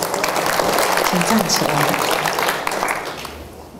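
Applause from a large crowd at a Buddhist Amitabha recitation retreat and dharma assembly, a broad clapping wash that fades toward the end, with someone speaking over it.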